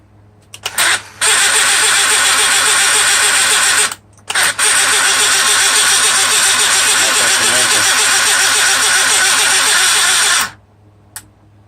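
A damaged Mercedes SL600 electronic throttle (Egas) module powered on a bench gives a loud, steady buzzing whir after a couple of short bursts. It cuts out briefly near four seconds, resumes, and stops abruptly before the end.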